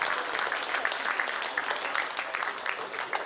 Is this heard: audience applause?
yes